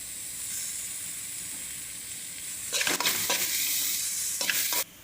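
Shallots frying in a pan with ginger and garlic for a Palakkad-style chickpea curry, a steady close sizzle that swells sharply as more goes in, with bursts of stirring, no talking.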